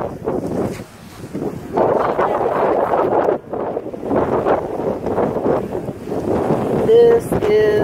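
Strong wind buffets the microphone at seaside cliffs as ocean waves surge below in uneven rushes, loud and close, with people talking briefly under the roar.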